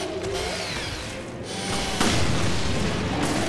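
A grenade goes off in the Resident Evil Revelations video game: a loud, broadband blast bursts out around the two-second mark over a dense, rumbling game soundscape, with no talking.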